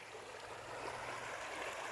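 A river runs over pebbles deep in the mountains, giving a soft, steady rushing and burbling that stays faint and continuous with no voices.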